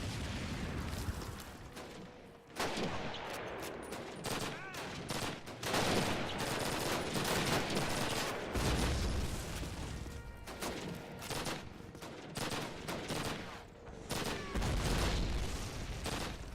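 Video game gunfire in a firefight: dense, continuous bursts of automatic weapons with rapid rattling shots and occasional heavier booms, loud and sustained throughout.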